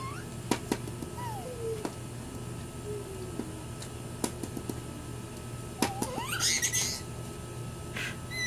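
Faint, short cat meows, a few scattered over a quiet background with a low steady hum and occasional light clicks.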